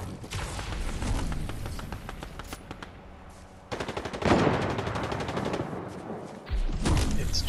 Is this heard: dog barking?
no